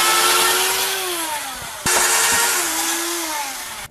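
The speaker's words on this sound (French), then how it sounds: "à l'aide d'une perceuse et d'un forêt, nous allons faire des avant-trous" An electric drill bores pilot holes into a wall, a loud continuous whine that briefly stops and restarts, its pitch sagging slightly as the bit bites.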